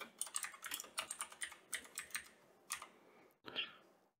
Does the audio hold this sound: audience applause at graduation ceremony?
no